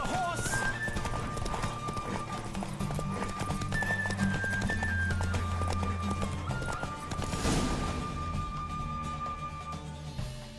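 In the game The Witcher 3, a horse gallops with steady, rapid hoofbeats and snorting breaths under a continuous musical score, with a brief neigh partway through.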